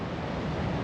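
Ocean waves at a beach in Sri Lanka make a soft, continuous wash of surf, faint and steady with some wind rumble against the microphone and no voices.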